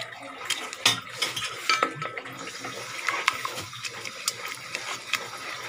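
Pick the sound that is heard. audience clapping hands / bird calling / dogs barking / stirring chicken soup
stirring chicken soup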